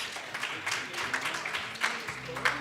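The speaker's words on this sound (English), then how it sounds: "A round of applause, please." A crowd claps steadily at a university public health division launch event, a continuous, even patter of many hands with small surges, heard at moderate level without anyone speaking.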